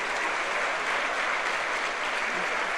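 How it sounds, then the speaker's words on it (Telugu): An audience at a government ceremony where Telangana Chief Minister Revanth Reddy hands out appointment letters claps loudly and evenly, a thick continuous wash of applause throughout. "వీళ్ళందరూ కూడా గట్టిగా చప్పట్లు కొట్టాలి."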